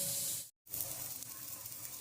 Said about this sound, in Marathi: कांदा आहे ना चांगला असा लालसर आपण परतून घेऊया तव्यावरती